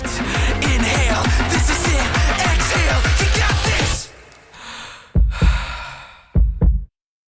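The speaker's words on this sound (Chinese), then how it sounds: "一个叹气加2声心跳声音" Inside a music track, a breathy sigh follows a dense rhythmic passage. It is followed by two distinct, deep, thudding heartbeat effects, each a close double thump, before silence.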